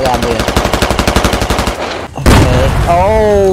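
Rapid automatic gunfire rattles close and loud in the shooter game Squad, a steady string of shots that cuts off before a sharp, heavy blast and a lingering wash of noise.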